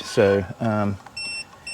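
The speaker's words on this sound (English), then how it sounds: "it's going to beep because the bicycle's thinking it's being moved" Aventon e-bike anti-theft alarm beeping as the bicycle is moved, a few steady high electronic tones following a short spoken word, fairly close and clear.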